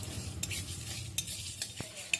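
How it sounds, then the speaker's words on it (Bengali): Whole spices are dry-roasted in a hot dry wok over a low gas flame, giving a soft, continuous rustle broken by several sharp scraping and clinking stir strokes of a utensil against the pan. "কড়াইটা ভালো করে গরম করে নিয়ে আর গ্যাসের আঁচটা একদম আমি কমিয়ে দেবো কমিয়ে দিয়ে আর এগুলোকে আমি ভালো করে ভেজে নিচ্ছি"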